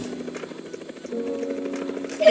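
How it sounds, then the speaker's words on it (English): Helicopter in the Roblox game Siren Head Forest, a steady buzzing rotor-and-engine drone that holds evenly for a couple of seconds and slightly thickens toward the end. "Helicopter."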